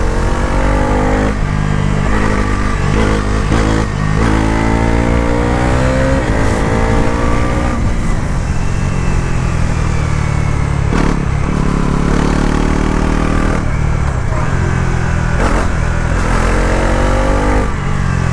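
A Bajaj Pulsar NS 350z motorcycle pulls hard in third gear, its engine note climbing steadily under heavy wind rush, loud and continuous, heard from the rider's position without voices.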